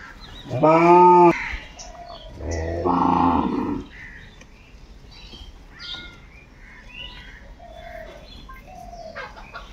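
Cows at a livestock market let out two loud, drawn-out moos one after another, then quieter animal and crowd sounds carry on in the background.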